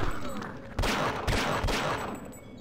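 Gunfire in the video game Signal Lost, several loud bursts of shots in quick succession over a low rumbling game backdrop.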